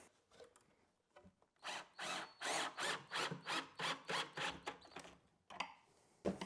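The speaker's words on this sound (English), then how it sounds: "So I'm going to start by screwing in my long rail." A drill drives pocket-hole screws through a long rail into a cabinet, in a burst of about a dozen short, evenly paced whirring pulses, close and fairly quiet, with a few brief handling noises before and after.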